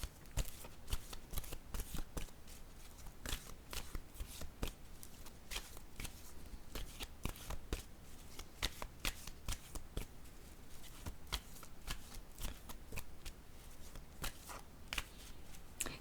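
Tarot-style cards shuffled and laid out during a card reading, a steady stream of crisp riffling and sharp slapping clicks, close and continuous with no talking.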